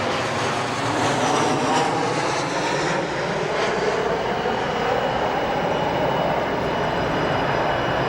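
A Boeing 737 jet arriving at O'Hare airport, a loud, sustained engine roar with a broad whooshing rumble and a slowly shifting pitch as it passes close by, steady throughout with no voices.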